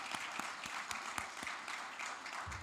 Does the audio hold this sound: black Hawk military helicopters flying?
no